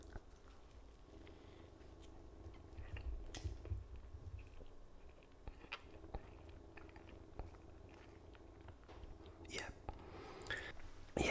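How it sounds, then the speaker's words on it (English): Someone bites into and chews a Greggs corned beef bake, with soft crunchy bites and wet mouth sounds close to the microphone, mixed with faint whispering and quiet clicks. "It's corned beef. Let's have a taste."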